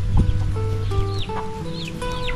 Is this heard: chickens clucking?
yes